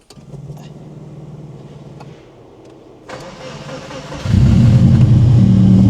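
A Subaru Brat pickup fitted with a WRX turbo engine idles quietly at first, then cranks and catches, jumping into a loud, deep, rumbling idle close by.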